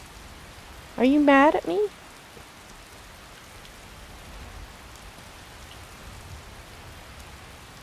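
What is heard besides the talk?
rain falling in video game Skyrim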